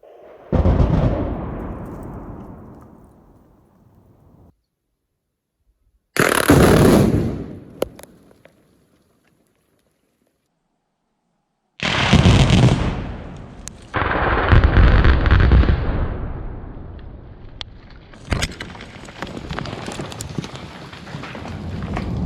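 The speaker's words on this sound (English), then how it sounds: "Upper lower guard, blasting 3, blasting now." A trail-clearing explosives blast with mules packing the load: sharp, loud detonations and bursts, separated by silent gaps, each followed by a rumbling decay and debris noise, with no voices.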